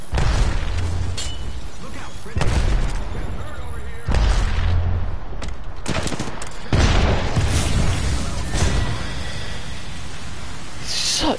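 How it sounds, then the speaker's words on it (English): Gunfire and a grenade explosion in a shooter game, with repeated heavy bursts of shots and booming impacts in dense, loud battle noise and occasional talking. "Look out, grenade."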